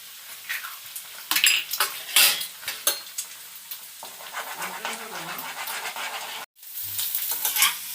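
An egg fries with potato and onion in a pan, soft sizzling under repeated scraping and clattering strokes of a spatula stirring, close and uneven, with a short break near the end.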